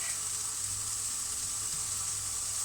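Salted fish dry-frying in a hot pan gives a steady, close sizzle that holds evenly throughout with no voices.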